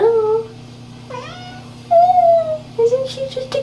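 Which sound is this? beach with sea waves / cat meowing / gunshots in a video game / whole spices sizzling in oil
cat meowing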